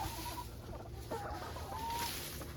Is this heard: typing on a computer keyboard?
no